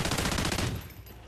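Rapid automatic gunfire in a video game, a dense loud burst of shots that tails off toward the end.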